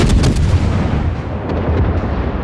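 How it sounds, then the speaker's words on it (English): Naval guns on a warship opening fire in World of Warships, a loud booming salvo of several close blasts at the start that trails off into a deep rumbling echo. "We're going to go ahead and open fire on them, try to keep them away from our carriers."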